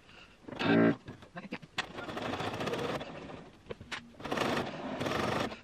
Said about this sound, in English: that's where you want to be sewing, is in this fold